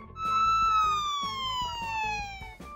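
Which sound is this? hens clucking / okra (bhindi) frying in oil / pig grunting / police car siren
police car siren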